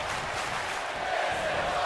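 Crowd chanting in a WWE 2K wrestling video game, a steady wash of many distant voices filling the arena, continuous and moderately loud throughout the short moment.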